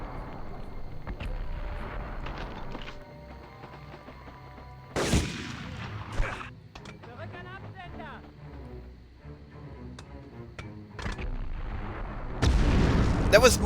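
Gunfire from the PS1 game Medal of Honor, with sharp broadband shots at about 5 seconds and again near the end. Quieter game sounds and brief clicks fill the gaps, and there is no talk.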